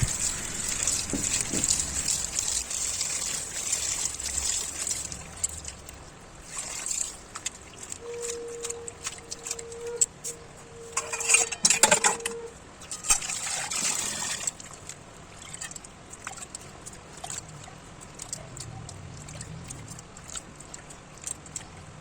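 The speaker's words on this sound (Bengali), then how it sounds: "ভালো করে জল দিয়ে ধুয়ে নেব অনেক কয়েকবার জল দিয়ে ধুয়ে নিতে হবে" Chopped ridge gourd greens rinsed in water in a kitchen, with steady trickling and splashing, sloshing in bursts and a brief louder gush midway, close and continuous without voices.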